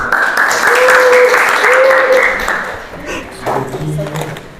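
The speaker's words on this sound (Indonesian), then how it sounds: "beri tepuk tangan kepada tim kuning" Classroom audience claps for the yellow team during a teacher performance test lesson, a brisk burst of applause that peaks early and fades within a few seconds, with a bright ringing tone and voices mixed in.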